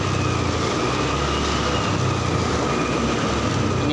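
Honda Beat FI scooter engine revving steadily and close by, a continuous droning roar with no clear peaks, the throttle held open throughout.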